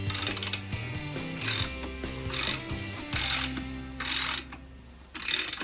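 Ratchet fitted with a 14mm socket backing out the axle on an SSR 125 pit bike, with repeated bursts of close, crisp clicking separated by short pauses and no talk.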